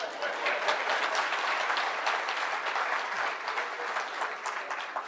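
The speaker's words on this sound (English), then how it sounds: "clap your hands" A lecture audience at a talk on artificial intelligence in higher education claps hands in a continuous, fairly dense round of applause, with individual claps audible throughout at moderate loudness.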